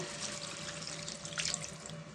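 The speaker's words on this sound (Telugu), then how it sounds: "దీంట్లో చింతపండు పులుసు వేద్దామండి" Tamarind water pours into a pan of okra curry with a soft, steady splashing trickle, fairly quiet and uninterrupted for a couple of seconds.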